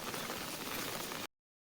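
Heavy, continuous downpour drumming steadily on surfaces in Odisha, a dense even hiss that holds constant before cutting off abruptly near the end.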